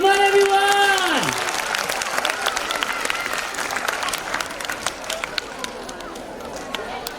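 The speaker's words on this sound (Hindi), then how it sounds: "एक बार जोरदार तालियां उनके लिए।" Audience applause at a school annual silver jubilee celebration, a dense sustained wash of clapping from a large crowd lasting several seconds, with a voice trailing off at the start and crowd noise beneath.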